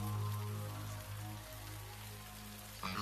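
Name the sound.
rain falling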